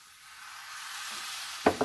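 Cleaned clams stirred and roasting in a pan for a kakka roast, with a soft steady sizzle that builds gently and two sharp scraping clatters of the spoon near the end.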